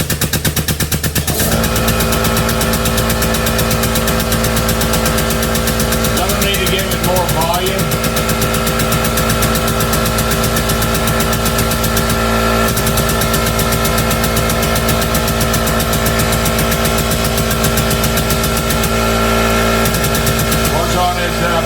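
A 20-ton air jack on a quarter-inch line from a shop air compressor hammers with a rapid pneumatic pulsing, loud and continuous after a short start, with a voice briefly heard over it.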